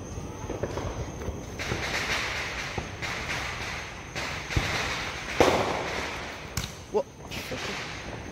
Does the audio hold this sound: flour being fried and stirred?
no